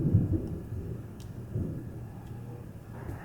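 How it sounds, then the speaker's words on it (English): Distant thunder rolling as a low, sustained rumble with two swells of louder grumbling, faint and far off with no voices. "It was just thunder."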